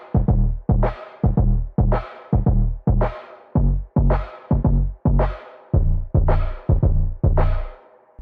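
A cowbell-style snare layered with punchy kick drums in a bass house or lofi electronic mix, hitting in a steady, repeating groove with deep thumps and sharp, bright decays, loud and close.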